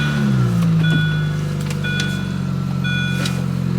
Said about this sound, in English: the engine, I think for the first time, sounds very happy and healthy